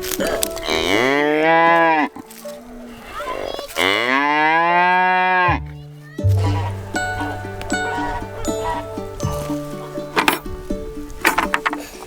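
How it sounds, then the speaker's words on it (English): A cow being halter trained gives two long, loud, close moos, followed by clinking metal and shuffling sounds around a milk stand. "We're just continuing halter training that cow."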